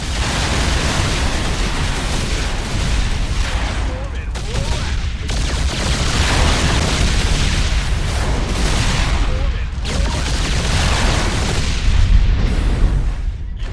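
Terran Viking air fighter in StarCraft II launching missiles, heavy continuous barrage of blasts and booming explosions, loud and dense throughout with brief lulls, as a narrator talks over it.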